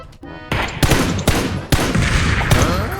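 Dense bursts of rapid gunfire in a video game, loud and close, firing in quick volleys with short gaps between them.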